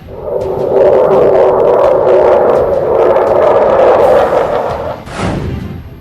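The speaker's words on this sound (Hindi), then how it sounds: "लद्दाख के आसमान में गरजते लड़ाकू विमान।" Fighter jets roar over Ladakh, a loud sustained broadband rumble that holds steady for several seconds, then a jet sweeps past near the end with a sharp rising whoosh.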